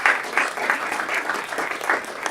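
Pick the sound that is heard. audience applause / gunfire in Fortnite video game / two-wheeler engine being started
audience applause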